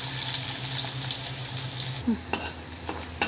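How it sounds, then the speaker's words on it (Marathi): Onion pieces dropped into hot oil in a kadhai on a gas stove for boiled egg bhurji, giving a steady close sizzle with a low hum, then a few sharp clinks and crackles near the end. "गॅसवर कढी ठेवली त्यामध्ये तेल टाकलेलं आहे कांदा टाकत आहे"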